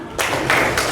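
An audience at a Quran recitation lesson claps hands in unison, giving three distinct loud bursts of clapping in quick succession close by.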